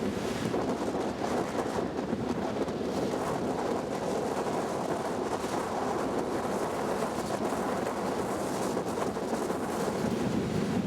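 Strong gusty wind over Bennett Lake roars continuously into the microphone outdoors, a loud broadband rush with faint water sounds underneath.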